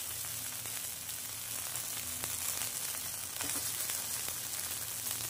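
Ragi (finger millet) idli pieces roast in a pan, giving a soft, continuous sizzle with faint crackles and an occasional light tap, fairly quiet and close, with no voices.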